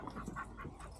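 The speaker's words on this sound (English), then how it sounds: "I do hear a lot of dogs whining and crying in the back" Dogs whining and crying in the background at a dog training program, faint, thin whimpers repeating over steady ambient noise.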